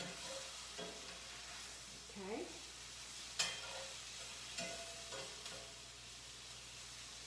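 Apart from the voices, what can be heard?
sautéing mushrooms in an oiled pan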